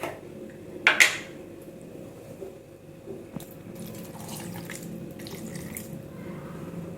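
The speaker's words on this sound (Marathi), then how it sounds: "यातच थोडंसं पाणी टाकायचं आहे।" Water is poured into a mixer jar over ice cubes while making a lychee mojito, starting with a short loud splash and then settling into a steady, softer trickle and clink for several seconds.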